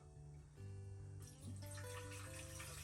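Water runs from a winter well water attachment into a pot at a hot-tent campsite, a steady close splashing fill whose pitch shifts as the pot fills.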